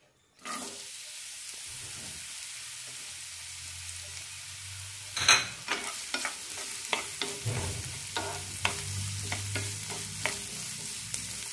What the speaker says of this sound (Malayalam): ഇത് നന്നായി ഒന്ന് വഴറ്റിയെടുക്കാം.